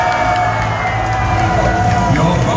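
A crowd at a live animatronic show in the Forum Shops at Caesars Palace cheers and shouts votes, a dense loud roar of voices sustained throughout.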